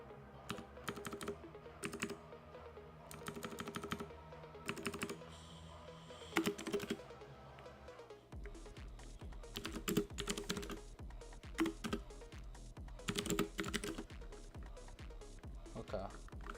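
Typing Linux commands on a computer keyboard, bursts of rapid close key clicks separated by short pauses, with a voice talking in between.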